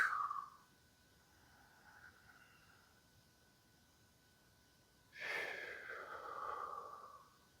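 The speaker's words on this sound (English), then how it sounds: "Your breathing pattern, that's a very important rhythm." Slow breathing in a quiet room: one soft breath at the start, then near silence, then a longer, louder breath in and out that rises and fades over about two seconds.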